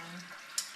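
Chicken in plum sauce sizzles softly in a pan, a steady, quiet fry with a brief clink or splash near the end.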